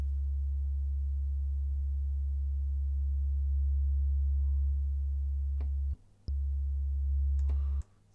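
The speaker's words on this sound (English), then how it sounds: "all you do then is sweep the frequencies to listen for the" Synthesizer sub bass sine tone, a deep steady hum that slowly sweeps in pitch, cut off briefly twice with faint clicks, played alone without voices.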